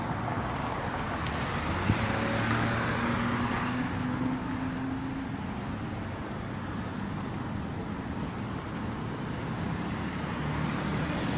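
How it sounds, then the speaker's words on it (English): A car passes along a road on a cloudy, rainy day, its engine and tire noise swelling and fading amid steady traffic rumble and wind buffeting the microphone. "I'm gonna let this car pass."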